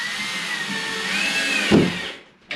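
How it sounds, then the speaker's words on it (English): A power driver runs steadily as a drywall screw is driven through a wall, its motor whine rising slightly before a louder burst of bogging near the end as the screw bites, then the motor cuts out. "I'm going to take a drywall screw and drive it through and see if I can feel a stud"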